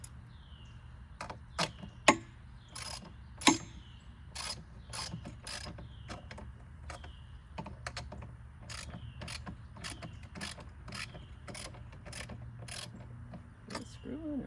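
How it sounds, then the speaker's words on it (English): Metal bolt being worked loose on an abandoned ski boat, with a steady run of sharp ratcheting clicks and clanks over a low mechanical hum, a few louder metallic knocks early on. "had to bend the bolt so I could try to get it out."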